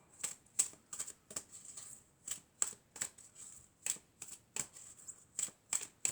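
Tarot cards are drawn and laid out, producing a run of crisp, close paper flicks and slides in an irregular rhythm against a quiet background.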